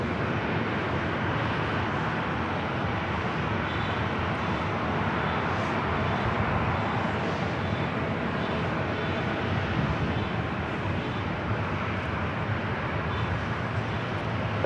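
A Lufthansa Boeing 747 on short final to runway 24 Left at LAX, a steady broadband jet roar holding at an even, fairly loud level throughout with no voices over it.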